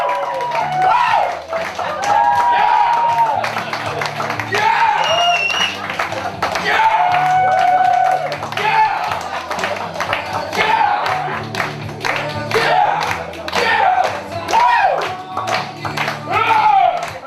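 Audience at a stand-up comedy show, Toju, clapping and cheering steadily throughout, with whoops and voices mixed into the crowd noise, fairly loud and sustained.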